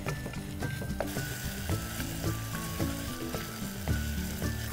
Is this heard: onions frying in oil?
yes